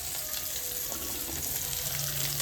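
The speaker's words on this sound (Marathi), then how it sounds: "बोंबील फ्राय" Bombil, Bombay duck fish, frying in a pan with a steady, dense sizzle and crackle that stays even throughout, close and fairly loud.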